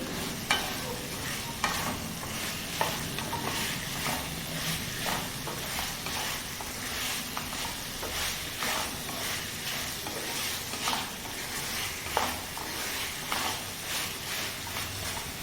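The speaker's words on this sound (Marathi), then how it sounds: "ते बटाटे टाकून घेऊया थोडासा गॅस मोठा करते आणि आता हे परतून घेऊया बटाटे" Potatoes being stirred and tossed in hot spiced oil in a pan, with a steady close sizzle and repeated scraping stir strokes throughout and no talking.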